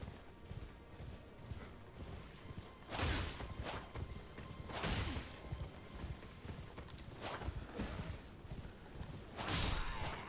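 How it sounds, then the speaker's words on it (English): Horse hooves in the video game Elden Ring, rhythmic clip-clop footfalls with periodic louder surges of movement over a soft game-ambience bed, moderately close and without talk. "So now we have a horse."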